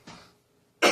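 A single short, harsh cough right after smoking DMT, close and loud, bursting out at the end after a softer breathy exhale.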